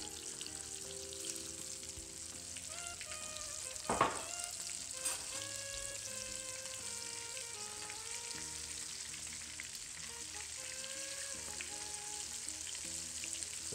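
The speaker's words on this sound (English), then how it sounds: "And I slowly place these quails in that oil." Small quails deep fry in hot oil, a faint continuous bubbling sizzle with one sharp clatter near the start, heard under soft background music and no speech.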